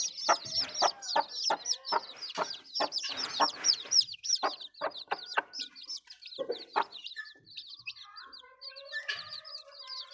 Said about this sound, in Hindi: माशाल्लाह खूबसूरत हमारे मुर्गी के बच्चे हैं और मुर्गी है